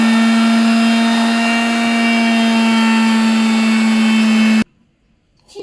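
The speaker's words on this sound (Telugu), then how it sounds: "గాయస్ ఇప్పుడైతే మనం చింతపండు మొత్తం మెదిగినాక తీసుకొచ్చి మిక్సీలో అయితే వేసేస్తున్నాం మళ్ళీ గ్రైండ్ చేయడానికి" A mixer grinder blending soaked tamarind with garlic for chutney: a loud, steady, high-pitched motor whine runs for over four seconds, then cuts off abruptly to near silence with faint rustling.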